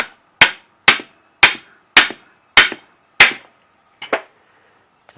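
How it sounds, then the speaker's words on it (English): Sharp metallic taps of a hammer striking a screwdriver about seven times at a steady pace while removing a car ball joint, each ringing briefly before the next blow, with no talk. "I'll just get the screwdriver and the hammer"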